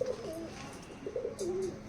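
Pigeons coo in short, wavering low phrases at moderate distance, a few soft calls spread across the moment with faint background noise.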